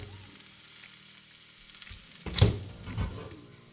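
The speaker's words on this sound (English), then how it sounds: "Oh, there's that sizzle." Steak drops into a hot air fryer basket with a sudden loud sizzle that settles into steady frying crackle, close up.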